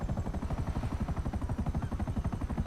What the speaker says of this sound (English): I think I prefer helicopters to Hydras and planes